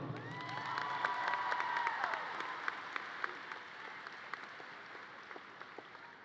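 Audience at a community education center graduation applauding for a graduate, a dense wash of clapping with some cheering that slowly thins out toward scattered distinct claps at the end.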